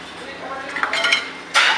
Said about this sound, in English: Now we're going to actually break the eggs and beat them up with rice flour and vinegar.